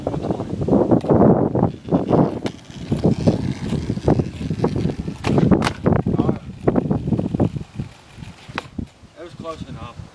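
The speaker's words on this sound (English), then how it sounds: "I'm sorry it's a bit windy" Gusty outdoor wind buffets the microphone as a low rumble beneath close talk while skateboarding, steady through most of the stretch with a brief lull near the end.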